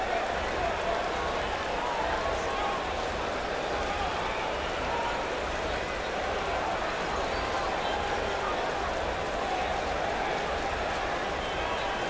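A wrestling crowd at an indoor show fills the space with steady cheering and clapping, a dense, continuous roar at even loudness with no breaks throughout.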